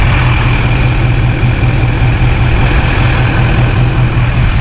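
An LB7 Duramax diesel truck engine runs at a steady, loud, close idle with a deep low rumble and no voices.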